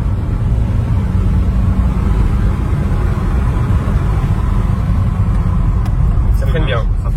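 A BMW X3 with 350 hp drives and brakes, heard from inside as a steady low road and engine rumble, with people talking over it.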